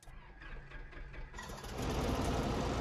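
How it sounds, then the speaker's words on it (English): Robinson R22 Beta helicopter engine in MSFS turning over and catching, a rough mid-pitched chugging that jumps to a louder, steadier broadband roar partway through, heard alone up close. "you're going to listen carefully for the engine to catch"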